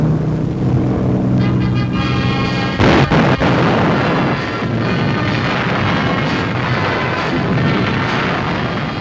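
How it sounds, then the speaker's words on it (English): Bombs exploding on German positions at Boulogne in 1944, a dense, continuous roar of blasts and rumbling, with a sharp heavy burst near the start, heard loud and alone without speech. "All positions were accurately hit with bombs."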